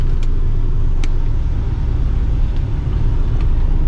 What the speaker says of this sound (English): Let's move the car around.